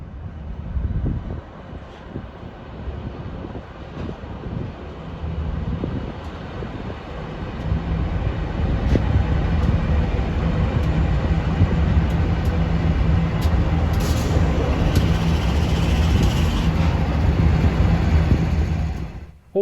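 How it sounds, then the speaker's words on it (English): Freight locomotives roll through Sandgate Station on the Hunter Line, a loud, close diesel rumble with a steady low drone and wagons clattering past, building and holding strong throughout. "Here are the same locos returning from Kurrangong Island a little while later."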